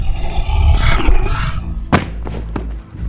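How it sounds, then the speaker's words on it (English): A neck-snapping crack in an audio drama, heavy thuds and a rough roar followed by a sharp isolated crack and a couple of smaller snaps, close and loud with no speech. "Crack. Quinn snaps his neck."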